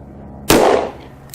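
A single loud close gunshot from a .357 Magnum or 10mm handgun fired into clear ballistics gel, a sharp crack followed by a short decaying rumble, with a faint later click.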